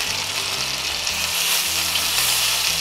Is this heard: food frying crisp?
yes